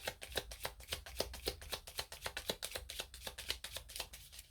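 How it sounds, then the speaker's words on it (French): Tarot cards reshuffled by hand in a steady run of quick riffling snaps, close and crisp, continuing without pause and with no voices. "On remélange un petit peu."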